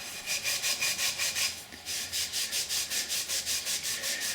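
A green scouring pad with Comet bathroom cleaner scrubs a metal part on a 2007 Husqvarna TE250 in steady back-and-forth strokes, a close, rhythmic rasping that pauses briefly and then resumes at an even pace.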